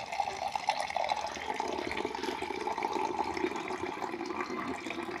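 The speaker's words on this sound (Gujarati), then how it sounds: "અને હવે એની અંદર હું પાણી ભરી રહી છું।" Water pouring from a tap into an empty jug, a continuous rushing, gurgling stream, close and steady throughout, with no talk.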